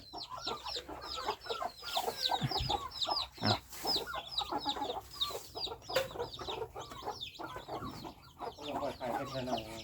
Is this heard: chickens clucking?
yes